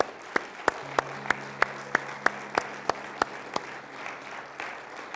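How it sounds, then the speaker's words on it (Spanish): Church congregation giving a loud round of applause for the Lord after a prayer, heard as a steady sparse series of sharp claps over a low hum, with faint murmuring beneath. "¿Puede darle un fuerte aplauso al Señor?"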